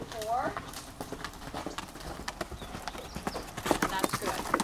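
A horse canters around a riding arena, its hoofbeats thudding in a steady rolling rhythm, close and clear, while a rider or trainer talks over the footfalls.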